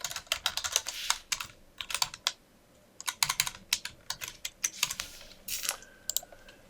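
Rapid bursts of keystrokes on a computer keyboard, clattering in quick irregular runs with a short pause midway, close and clear with no talking.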